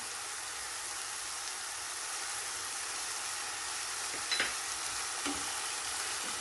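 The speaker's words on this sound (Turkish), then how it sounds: "Sotelemeye devam ediyoruz" Chopped tomato and salt sautéing in a pan, a steady low hiss of frying that continues throughout, with a couple of faint utensil taps near the end and no voices.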